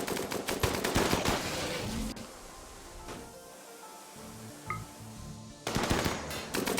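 Dense bursts of automatic gunfire from a RimWorld battle, loud at the start, then a quieter lull with scattered sounds, before rapid shooting returns near the end.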